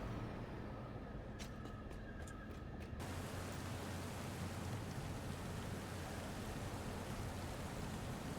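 Rain falling in the video game Satisfactory, a steady broad hiss of rainfall that swells and thickens after a few seconds, continuous and soft, with a few faint clicks early on.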